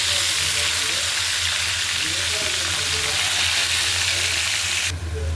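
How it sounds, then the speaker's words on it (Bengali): Aubergine pieces frying in hot oil in a pan, a loud, dense, continuous sizzle close up that holds steady throughout with faint crackles underneath. "আমি এখন ভেজে নেব বেগুন।"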